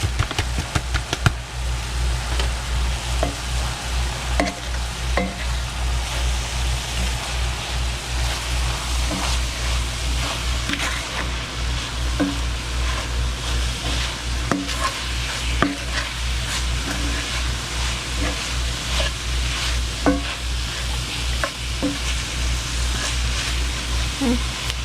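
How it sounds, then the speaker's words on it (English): Spoon stirring McCormick's original chili seasoning into cooked, drained meat in a pan, a steady scraping with repeated clinks and a soft sizzle underneath, close and continuous throughout. "I'm going to put in the McCormick's original chili seasoning and stir that in."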